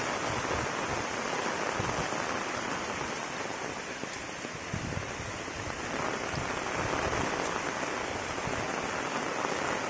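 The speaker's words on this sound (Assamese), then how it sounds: "তো আহিলে বৰষুণ" Steady morning rain falls over a village around nine o'clock, a dense, even hiss of drops on surfaces that holds at constant loudness throughout.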